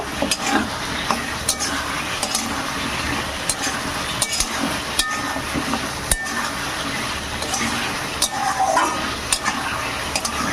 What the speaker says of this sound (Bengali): মশলার সঙ্গে কচুকে খুব ভালো করে একটু কষে নেব